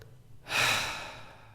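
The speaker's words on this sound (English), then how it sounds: "I'm breathing" One long, deep exhaled breath, loud and close, rising quickly and slowly fading after a brief quiet moment.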